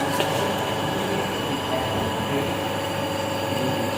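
An induction motor runs steadily at about 1478 rpm, giving a continuous loud mechanical drone with a constant tonal hum and no change in pitch over a few seconds.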